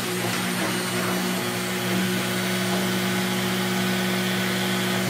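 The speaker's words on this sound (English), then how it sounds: "I'm going to use Dremel just with the cutting disc" A Dremel rotary tool fitted with a cutting disc whines steadily as it cuts through a Lian Li PC-P80 motherboard tray, a loud continuous high-speed motor drone with a gritty grinding edge.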